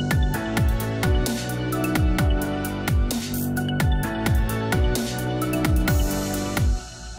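Loud EDM section made in FL Studio in which a bright lead synth melody replaces the vocal chops over a steady pounding kick and snare groove, holding a constant driving rhythm before dropping off near the end.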